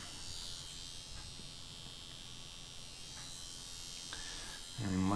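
A Dragonhawk Mast Archer 2 rotary tattoo machine gives a steady, fairly quiet electric buzz throughout, growing louder and harsher near the end as it runs close up.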